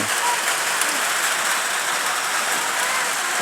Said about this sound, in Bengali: ঝিরঝির করে বৃষ্টি হচ্ছে।